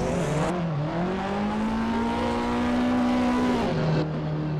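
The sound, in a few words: BMW drift car engine during a drift competition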